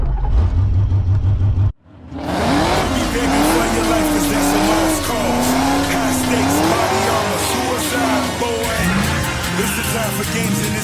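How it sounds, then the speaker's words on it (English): A junkyard BMW fitted with a 5.3 engine is pushed hard with clutch kicks, its engine roaring loud and steady while the rear tires squeal and slide in long wavering screeches, right after a brief cut to silence. "For right now, clutch kicks and rear end slides is what we're working for."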